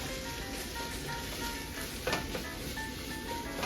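Ginger garlic paste frying in a pan for mutton curry gives a steady, even sizzle, with a brief scrape of stirring partway through.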